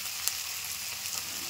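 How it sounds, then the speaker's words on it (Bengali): Chilli soybean fries in a pan with a soft, continuous sizzle, quiet and close, with a couple of faint pops and no talking. "একটু ভাজা হোক"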